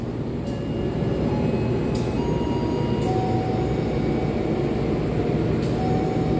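Steady low rumble inside a moving passenger train, the Sembrani, a priority-class service departing Semarang Tawang at night, continuous and fairly loud, with faint high tones and a few brief clicks on top.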